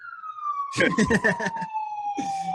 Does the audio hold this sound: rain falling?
no